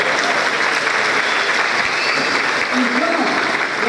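A church congregation gives a round of applause for a man named Jefferson during a sermon, a dense, even burst of clapping filling the room, with faint voices and a brief vocal sound near the end.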